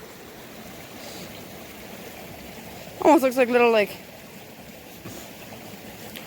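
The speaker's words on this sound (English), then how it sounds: "Oh, but there's the most beautiful little waterfall right there." A small waterfall flows outdoors as a faint, steady rush of water. A voice speaks briefly over it.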